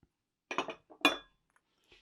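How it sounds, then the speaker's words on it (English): Finely shredded cheddar being mixed in a bowl for a cheese ball coating gives a few short clinking, scraping knocks in quick succession, close and fairly quiet, with no talking. "So I'm just going to go ahead and mix these together."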